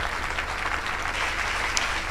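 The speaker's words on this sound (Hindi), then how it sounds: "ताली बजाते रहें" A congregation at Filadelfia Church in Udaipur applauds in a loud, steady, close wash of clapping that never breaks, with no voices on top.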